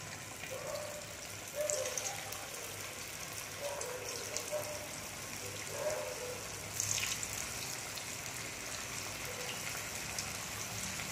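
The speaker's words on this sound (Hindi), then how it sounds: "अब इसे डीप फ्राई करेंगे लेकिन मीडियम फ्लेम पर।" Vegetable Manchurian balls deep-fry in oil over a medium flame, a continuous bubbling hiss with soft crackles and occasional swells as pieces shift, no talk over it.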